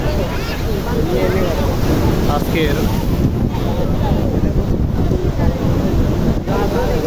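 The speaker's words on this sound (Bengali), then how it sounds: "ঢেউগুলো খুবই ভয়ঙ্কর, তবে আজকে ঢেউগুলো খুব ভালো লাগছে" Loud, continuous roar of surf at Patenga sea beach, Chattogram, with heavy wind buffeting the microphone, waves rushing steadily without pause.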